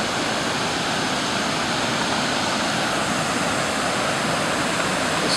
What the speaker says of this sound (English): you can still see the water just coming through.